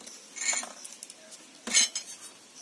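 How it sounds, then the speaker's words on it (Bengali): A ladle stirring doi pitha batter in a metal bowl, giving a few close, separate clinks and scrapes with quiet gaps between them. "আমি এই হাতাটার সাহায্যে মিশাচ্ছি।"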